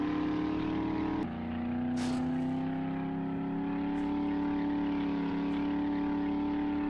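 A vehicle engine in the survival game 7 Days to Die runs at a steady, droning pitch throughout, loud and continuous, with a brief dip in tone partway through.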